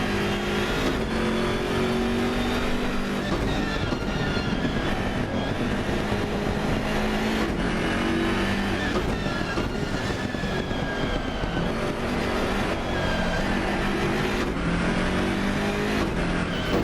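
An M4 race car in Assetto Corsa Competizione laps Zandvoort from the helmet cam, its engine roaring continuously and loud, rising and falling through gear changes and repeated acceleration, with no voices.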